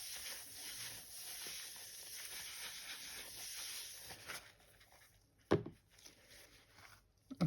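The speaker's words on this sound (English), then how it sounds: "I'm going to spritz it with some alcohol to give it a good clean." Alcohol is sprayed onto a polymer clay bowl as a long, even hiss for several seconds. The hiss fades out and is followed by a few faint taps and handling noises.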